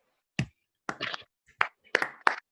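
A sparse handful of separate, crisp hand claps from a small comedy club audience in Burbank, spaced irregularly with silence between them and fairly quiet.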